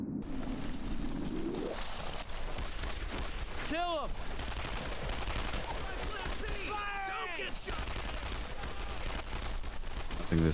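Gunfire with German MG machine-gun bursts in the World War II shooter Brothers in Arms: Earned in Blood, rattling on and off under dense battle noise, with voices and bird-like whistles mixed in.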